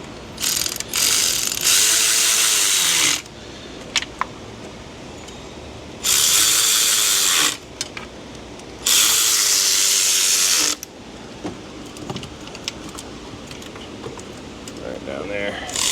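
A ratchet tightens bolts on a Chrysler Dodge 3.6 engine in three long bursts of rapid clicking, loud and close, separated by shorter clicks and quiet workshop pauses.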